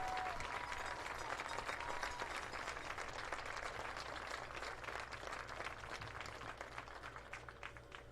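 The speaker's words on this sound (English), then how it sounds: "one more round of applause for these 2024-25 senior cheerleaders and football players and their parents" Crowd at a high school football senior night applauds the senior cheerleaders, football players and their parents: steady, distant stadium clapping sustained throughout, fairly faint under a broad outdoor hum.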